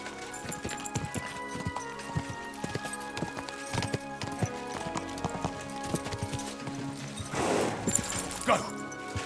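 A horse in the video game Kingdom Come: Deliverance II clip-clops in an even, close rhythm of hoofbeats, with a rider talking over it and a short burst of rougher noise near the end.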